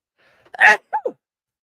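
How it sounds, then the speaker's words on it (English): A single loud sneeze bursts out close by, followed by a couple of short breathy sounds as it trails off, then silence. "I think I'm going to sneeze again"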